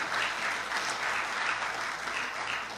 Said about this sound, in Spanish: Den un aplauso fuerte al Rey de la Gloria.